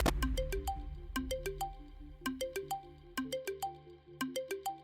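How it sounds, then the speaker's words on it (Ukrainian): A mobile phone ringtone plays loud and close, a bright repeating electronic melody of quick plucked notes cycling about every second, with nothing else over it. "мені хтось телефонує"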